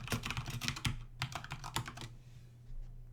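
Fast, steady typing on a computer keyboard: a dense run of crisp key clicks that slows and thins out before stopping, heard close and alone over a low hum.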